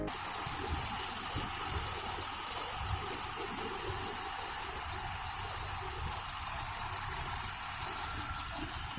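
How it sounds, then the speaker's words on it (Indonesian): A Suzuki F10A 1.0-litre engine in a 1996 car idles steadily and smoothly, a continuous low mechanical hum with faint vibration, recorded close up with no talking. "Suara mesinnya masih terdengar sangat halus untuk sekelas mobil tahun 96"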